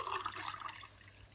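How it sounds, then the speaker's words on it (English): Semi-boiled water being poured into a cup, a brief bright splashing trickle that is close and steady at first, then thins and fades. "some semi-boiled water to fill up my cup"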